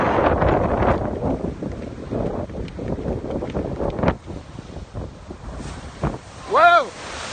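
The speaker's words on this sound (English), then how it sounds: "They're rogue waves that hit when you don't expect it, when you least expect it." Big storm-driven ocean waves near Boston roar and crash continuously under heavy wind buffeting the microphone, and near the end a person lets out a rising-falling exclamation.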